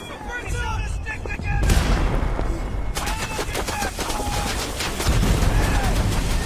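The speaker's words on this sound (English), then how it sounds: "I was right, those are guns. Those were guns over trees." Gunfire and artillery in the WW1 trench VR game War Remains, with dense rattling volleys, sharp cracks and low booms that carry on without pause and swell in loudness partway through.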